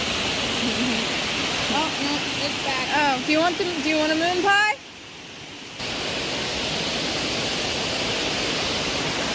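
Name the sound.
river flowing beside a forest trail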